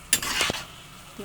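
A quick stir of odong noodles, squid balls and spinach seasoned with fish sauce in a pan gives one brief, close burst of scraping and sizzle that fades quickly.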